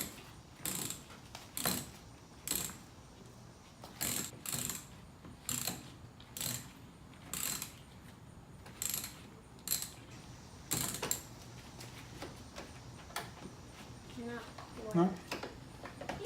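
Ratcheting clicks from removing a bolt on a Mercedes body panel: repeated short bursts of sharp metallic clicking in an irregular rhythm, fairly quiet, with faint background noise.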